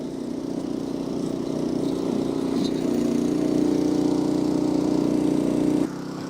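A small machine with a single-cylinder 0.16 litre engine runs at a steady, throbbing drone, close and continuous, then drops abruptly to a lower level near the end.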